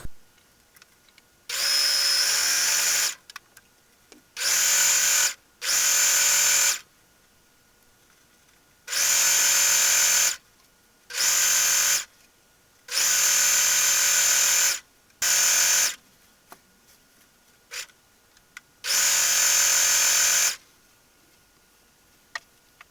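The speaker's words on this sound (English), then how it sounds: "So I have my serger set with no knife again, rolled hem pretty tightly" A serger with the knife disengaged sews a tight rolled hem joining two petticoat layers. It gives several loud, fast-buzzing runs of a few seconds each, separated by short silent pauses.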